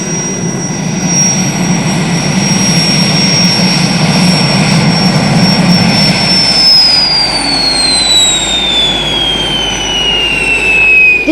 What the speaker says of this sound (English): The helijet has just landed.